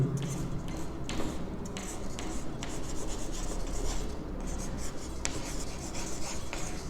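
Pen or pencil scratching on paper while solving a Class 10 polynomials exercise, a steady soft rubbing and rasping with faint tapping strokes throughout, close and continuous with no talk.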